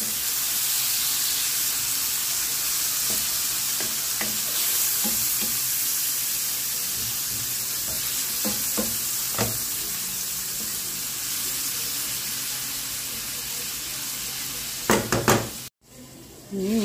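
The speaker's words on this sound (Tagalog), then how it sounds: "Isabay natin sa pag-isa dito sa ating onion, garlic, at kamatis." Onion, garlic and tomato sauté with ground meat in a pan, making a continuous close sizzle broken by light scraping stirs, with a brief clatter and a dropout near the end.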